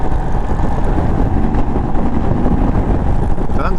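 An Indian Sport Chief RT motorcycle is ridden at speed, its steady engine drone mixed with heavy wind rush, loud and continuous throughout.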